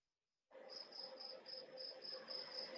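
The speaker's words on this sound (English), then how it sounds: "Somebody's got crickets." Crickets chirp steadily outside an open window, a continuous high pulsing trill that starts abruptly after a moment of silence and carries on at a moderate, fairly close level.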